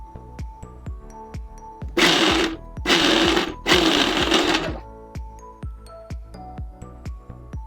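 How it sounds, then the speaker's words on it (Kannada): Cluster beans being coarsely ground in a mixer grinder, switched on and off in three loud, close whirring bursts of about a second each, set against quiet background music with steady ticking beats. "ಮಿಕ್ಸಿನ 4 ಸತಿ ಆನ್ ಆ್ಯಂಡ್ ಆಫ್ ಮಾಡಿ ರುಬ್ಕೋತೀನಿ."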